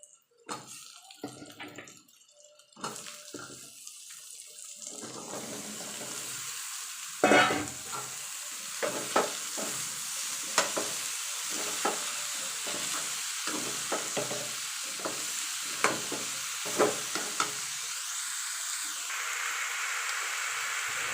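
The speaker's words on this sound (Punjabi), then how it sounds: "ਹੁਣ ਅਸੀਂ ਇਹਦੇ ਵਿੱਚ ਆਪਣੀ ਸ਼ਿਮਲਾ ਮਿਰਚ ਤੇ ਆਲੂ ਐਡ ਕਰਾਂਗੇ" Potato and capsicum pieces are tipped into roasted masala in a hot pan and stirred, giving a steady sizzle broken by repeated scraping, clattering spoon strokes at an irregular rhythm, close and fairly loud.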